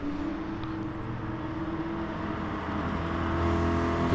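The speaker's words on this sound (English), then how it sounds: "Lovely sound of the V8 rumble" Historic V8-engined racing cars lapping at Goodwood, with a steady loud rumbling drone that swells slightly toward the end as the cars draw nearer, no voices present.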